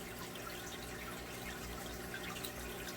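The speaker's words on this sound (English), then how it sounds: "It's a water pump" Homemade fish tank filtration system built from a water pump and a water bottle, giving a steady, close trickling and bubbling water noise that runs continuously and evenly throughout.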